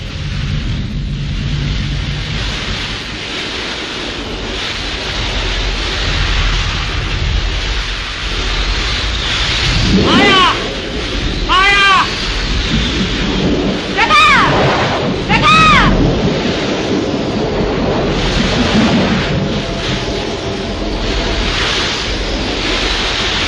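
Stormy weather from a 1937 Hindi film, a steady roar of wind and rain-like noise with low rumbling, loud and continuous, broken by a few sweeping whistling gusts in the middle.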